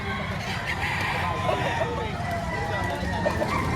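Chickens and roosters sound at a Tuesday poultry market in Padre Garcia, Batangas, near a white kelso rooster with yellow legs, with brief clucks and crowing notes rising over a constant hubbub of crowd chatter and nearby talk.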